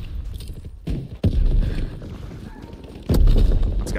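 An RPG rocket blasts in Call of Duty WW2, heard as sharp booming hits with rumbling aftermath amid ongoing battle noise, loud and close, two main impacts spaced a couple of seconds apart.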